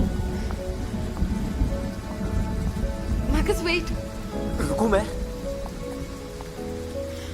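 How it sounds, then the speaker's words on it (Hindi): Steady rain falls on surfaces while thunder rumbles low in the background, and people talk briefly in between. "अभी भी बारिश हो रही है"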